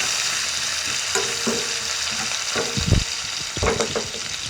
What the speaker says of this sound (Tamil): நல்லா வதக்கி எடுக்கிறோம். இதில் வாசனை வந்த உடனே கறிமிளகாய் கொஞ்சம் போடுறோம்.